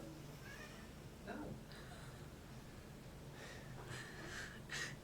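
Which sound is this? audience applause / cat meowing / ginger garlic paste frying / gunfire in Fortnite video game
cat meowing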